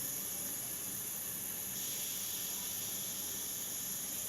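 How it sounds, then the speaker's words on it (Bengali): About 200 ml of cooking oil poured into a heated pot on a stove for beef bhuna, producing a continuous even hiss that holds steady throughout, close but fairly soft, with no voices. "চুলায় একটা পাতিল গরম করে নিয়েছি আমি। এখন এখানে 200 ml মতো তেল দিয়ে দিচ্ছি।"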